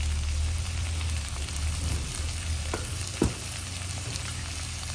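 Asparagus stir-fries in a hot pan, a constant quiet sizzle with a few soft clicks and scrapes of stirring, and no talking.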